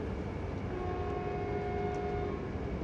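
KRL Jogja-Solo electric commuter train, a steady loud rumble with a sustained tonal hum or horn-like note mid-clip, heard from close by on the platform, no talk.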